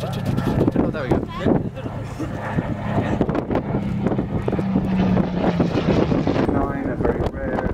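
A Supermarine Spitfire flying at the Southport Air Show, its engine a steady distant drone under wind noise while an announcer speaks over a loudspeaker.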